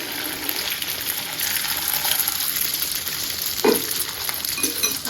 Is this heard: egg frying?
yes